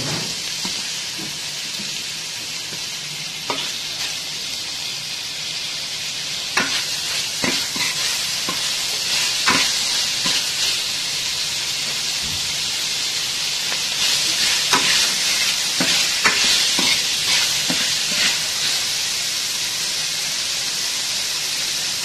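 Onions and tomatoes sauté in a pan for veg kuruma, a steady close sizzle and hiss with intermittent scraping stirs, no talking.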